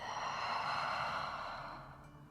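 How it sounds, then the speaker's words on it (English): A deep, slow exhale through the mouth during a nurturing yin yoga session: a single soft, breathy sigh lasting about two seconds, close and quiet, fading out at the end. "One last exhale at the mouth"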